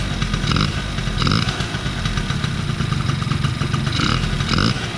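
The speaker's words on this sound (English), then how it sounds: "let's give the throttle just a couple of braps, just so you can see how it sounds." A small two-stroke Honda Dio AF27 scooter engine idles roughly, then gets a few quick throttle blips that rise and fall, close to the listener.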